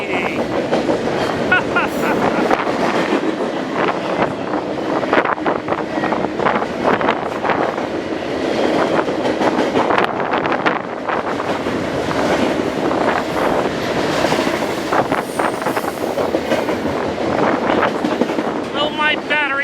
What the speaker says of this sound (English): we got a westbound or eastbound stacker meeting!